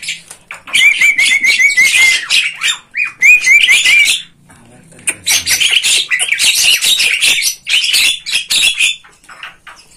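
Dense, noisy chorus of many starlings in an aviary chattering, squawking and whistling at once, loud and close, with short lulls between bursts.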